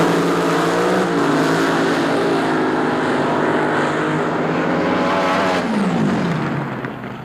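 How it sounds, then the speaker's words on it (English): A Top Fuel AA fuel dragster from the 1976 NHRA Springnationals roars continuously and loud, its harsh engine holding steady at full power, then the pitch sweeps and the noise starts to fade toward the end. "I want to take you on a little ride in one of those AA fuel dragsters."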